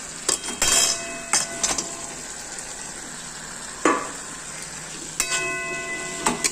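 Okra frying in oil in a pan, a continuous close sizzle broken by several sharp metallic clinks of a utensil against the pan.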